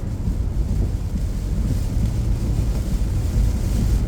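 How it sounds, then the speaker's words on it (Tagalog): Strong wind on a high bridge during heavy rain roars and buffets steadily, a dense low rumble that continues unbroken with no voices present. "Pero mahangin"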